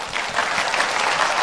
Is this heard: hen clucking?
no